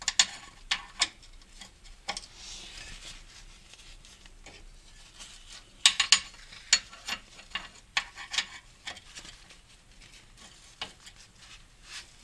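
A ratchet wrench working a 10mm bolt off the transmission of a 2002 Honda Odyssey, with quiet clicking and irregular sharp metallic ticks and clatters scattered over twelve seconds in a close, quiet garage setting.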